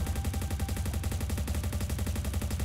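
Rapid automatic gunfire from the video game ORION, a steady, fast stream of sharp shots repeating evenly throughout at close range with no pauses.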